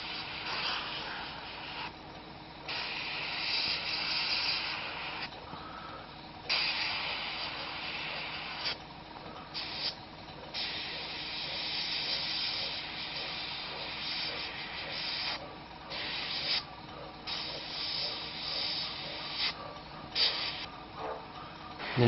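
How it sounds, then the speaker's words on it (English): Airbrush spraying a fine mist of paint, a continuous close airy hiss that swells and dips as the trigger is worked, with brief drops in intensity between passes. "Like you're basically lightly building it up with a mist spray."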